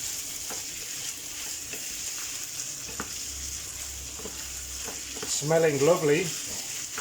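Minced meat and fried tomato are stirred together in a hot frying pan, with sizzling and scraping strokes throughout and a short spoken remark near the end.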